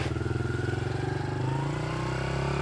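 A motorcycle rides steadily nearby, its engine a continuous throbbing rumble with a slight rise in pitch as it accelerates, loud and alone without talk.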